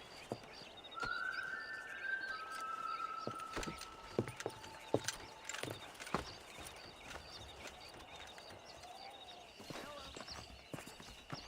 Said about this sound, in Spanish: Tú vete al caballo.